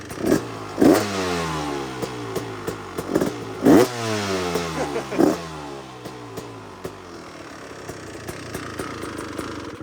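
A close-up 2026 Beta 350 RX two-stroke dirt bike gives three loud, crackling throttle blips that rise and drop in pitch, then settles back into a steady, burbling idle.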